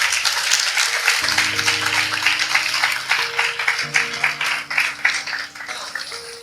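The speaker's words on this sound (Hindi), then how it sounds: "आइए इस वचन के लिए ताली बजाएंगे।" A church congregation claps in response to a sermon, a dense wash of many hands applauding steadily throughout, with a sustained organ or keyboard chord droning underneath.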